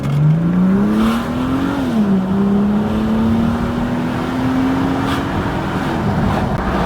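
A Mercedes W202 C36 AMG with the M104 inline-six and a custom exhaust runs at full throttle, a loud, steady engine drone climbing through the revs, dipping once at a shift, then rising again, heard from inside the car with the windows down.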